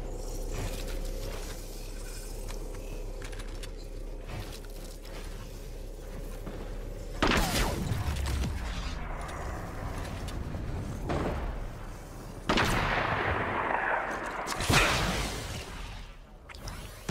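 Shotgun fire in the video game Fortnite: four or so sharp, loud blasts, each with a swishing decaying tail, spaced a few seconds apart over a steady background of game ambience.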